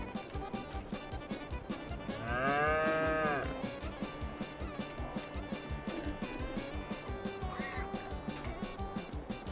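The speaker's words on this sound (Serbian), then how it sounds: "Vidimo kako je kod kravica situacija." On a farm, a cow lets out one long, loud moo close by. A steady, rhythmic mechanical clatter runs underneath, and a fainter second call comes near the end.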